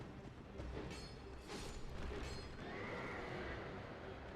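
A horse enemy in Dark Souls II whinnies loudly amid game ambience and clattering effects, the neigh rising over the first half before a steady hiss takes over.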